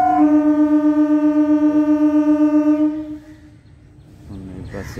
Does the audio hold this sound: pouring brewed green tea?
no